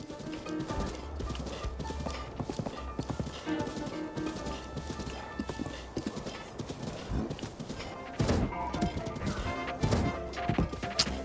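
Galloping horse hooves from The Legend of Zelda: Breath of the Wild, a steady, close clip-clop rhythm with a whinny, growing louder near the end amid game sounds.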